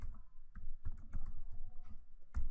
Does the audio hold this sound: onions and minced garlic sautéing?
no